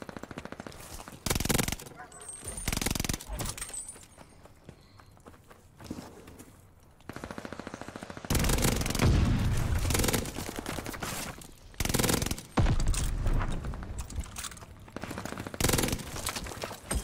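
Call of Duty Vanguard gameplay with a Nikita AVT: repeated bursts of automatic gunfire, loud and close, mixed with footsteps and game sounds, with brief quieter gaps between volleys.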